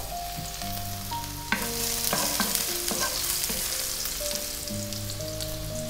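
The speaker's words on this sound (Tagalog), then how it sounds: "Ngayon naman po, nagpapainit na ako ng mantika. Gigisayin na natin yung ating bawang." Garlic sautés in hot oil in a pan with a steady, close sizzle. Light stirring clinks sound over the frying, and sustained musical tones run underneath.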